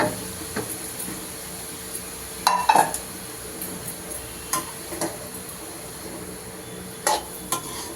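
Banana stem stir-fry with grated coconut being stirred in a pan, with a few sharp scraping clicks of the spoon over a faint low sizzle and steady background hiss.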